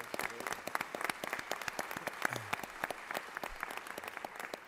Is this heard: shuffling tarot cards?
no